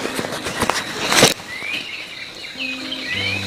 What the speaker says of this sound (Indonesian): ini kedengaran nggak suara burung, suara apa?